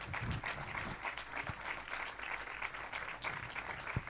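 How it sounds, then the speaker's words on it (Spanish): A church congregation applauding, steady dense clapping sustained throughout, moderately loud and filling the room, with no talk over it. "Dele un aplauso a la palabra de Dios."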